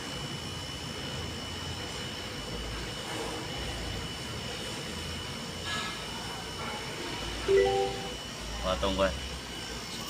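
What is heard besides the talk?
Chery Tiggo 7 Pro hybrid engine starting and running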